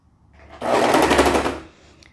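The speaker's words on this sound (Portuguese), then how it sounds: "E aí eu vou passar uma costura." A sewing machine runs a quick seam on pajama fabric, one loud, steady burst of rapid stitching about a second long, with quiet before and after.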